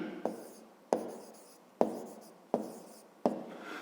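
A pen writes in a notebook during a fifth-grade maths exercise, making five sharp, evenly spaced strokes that each fade quickly, close and clear with no voices.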